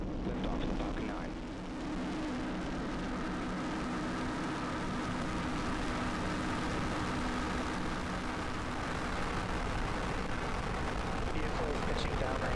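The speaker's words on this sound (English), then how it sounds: "Liftoff of Falcon 9" A SpaceX Falcon 9 rocket lifts off with a broad, continuous rumbling roar that holds steady and grows slightly rougher over about twelve seconds, heard from a distance with a crackling edge.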